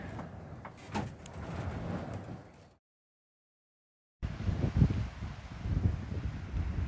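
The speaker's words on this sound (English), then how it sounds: "Let's get out into that wind." Gusty wind blows outdoors at an allotment garden in May, roaring as steady buffeting against the microphone in two stretches broken by a short silent gap.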